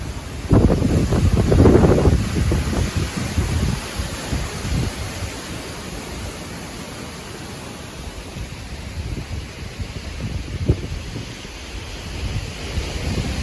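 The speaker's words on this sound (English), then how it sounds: "Wind don't stop." Strong wind in a backyard during a tornado storm in New York, gusting and buffeting hard against the microphone, loudest near the start, then settling into a steady rushing roar.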